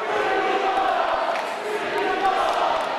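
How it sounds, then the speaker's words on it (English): Kickboxing arena crowd roaring for the fighter Diesel during a world championship bout, a steady dense wall of cheering and shouting throughout, loud and continuous with a commentator's voice riding over it. "Diesel's crowd getting behind him now."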